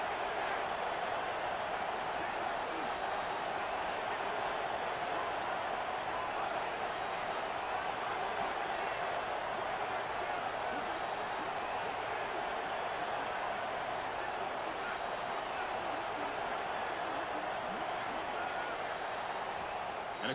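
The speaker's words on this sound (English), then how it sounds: "here comes the noise. This crowd is trying to inspire this defense to make a big red zone stop." Steady, dense roar of a stadium crowd in the College Football 26 video game as the home fans get loud for a red zone defensive stand, constant and wide with no breaks.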